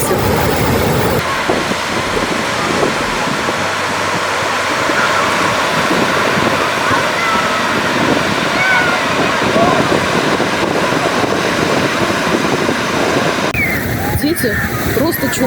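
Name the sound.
ocean wave surging onto a beach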